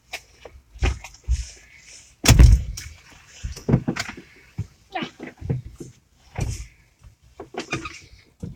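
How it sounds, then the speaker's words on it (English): A door is shut with one heavy, close thud, surrounded by scattered knocks, shuffling and handling noises. "Shut the door."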